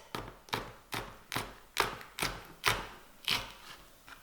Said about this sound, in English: now I'm going to chop my chili